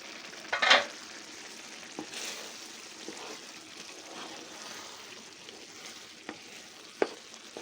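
Rice sautés in a pan for pilaf, giving a soft, steady sizzle close by, with a few stirring clatters and sharper knocks scattered through.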